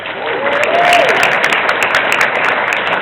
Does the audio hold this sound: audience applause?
yes